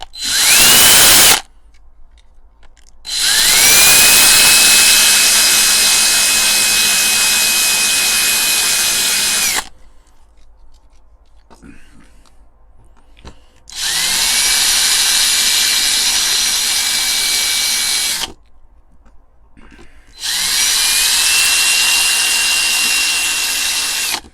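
A loud power drill whines in long bursts drilling out rivets on a die-cast model car, stopping and restarting several times, with quiet pauses between each run and a steady high-pitched motor tone.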